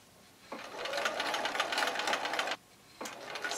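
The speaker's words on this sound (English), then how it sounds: "For this section, I'll stitch in the ditch." Sewing machine stitching quilt fabric in the ditch, a close, fast steady whirring run of about two seconds, a short pause, then the motor starts again.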